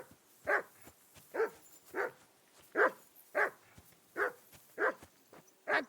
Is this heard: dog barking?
yes